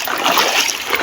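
Clear river water splashes briefly as someone swims at Payagwan in Antipolo, Rizal, a close, loud wash of spray lasting about a second with no talk.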